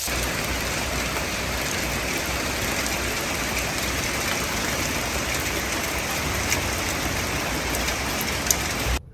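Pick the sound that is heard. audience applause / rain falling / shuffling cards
rain falling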